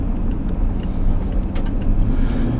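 A 1999 GMC pickup pulling away from a complete stop, its engine giving a steady low rumble that builds gently, heard from inside the cab with no talking.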